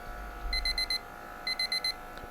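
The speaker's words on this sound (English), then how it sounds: "Beep, beep, beep, beep." Alarm clock in the video game Deadly Premonition 2 sounding two bursts of rapid high electronic beeps, each about four pulses, separated by a short pause over quiet background hum.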